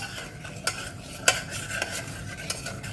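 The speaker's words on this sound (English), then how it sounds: "And just mix that with the honey." A utensil stirs brown sugar and honey in a bowl or pan with a soft, continuous scraping swish, punctuated by a few light clinks against the side.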